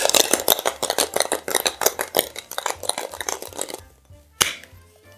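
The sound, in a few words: ice in a cocktail shaker tin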